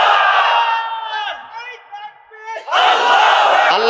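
A large crowd at a religious gathering roars the takbir in unison, a loud massed shout that dips and then swells back with full force.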